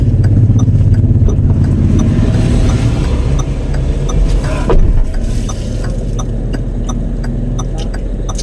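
A vehicle backing out through a gate, its engine droning loud and close at a steady idle, with a brief rise partway through and no talking.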